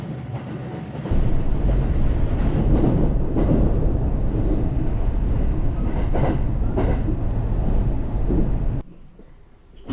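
Rumbling train ride from Osaka to Nara, a steady loud roar of the carriage on the rails with faint wheel clatter, holding for several seconds before easing off near the end.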